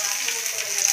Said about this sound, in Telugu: పచ్చిమిరపకాయ వేయించుకున్నాను, కొంచెం వేగాక ఆవాలు వేసా